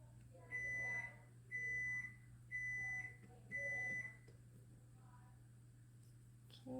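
A kitchen timer beeps in four evenly spaced, fairly faint bursts about a second long, under a steady low hum in a quiet indoor room, then falls silent.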